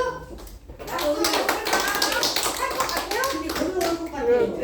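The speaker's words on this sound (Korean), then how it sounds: "박수!" An audience at a cosmetics sales event in Gwangju claps steadily throughout, a dense patter of hand claps mixed with talking voices and shouts close by.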